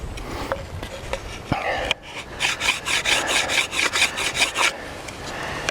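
A bamboo fire saw rubbed back and forth to make fire, with rapid rhythmic rasping strokes, close and fairly loud, after a few slower scrapes and knocks.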